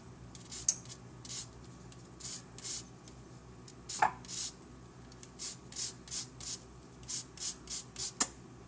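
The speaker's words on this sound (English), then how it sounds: "noise and feeling of zesting lemon really bothers me" A lemon is rubbed over a metal zester in a kitchen, giving a quiet, rhythmic series of short scraping strokes in bursts, with a few brief clicks between them.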